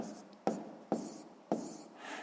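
Pen strokes on paper as numbers are written out by hand during a sixth-grade maths exercise, three short distinct scratching bursts at an unhurried rhythm, close and clear with no talking.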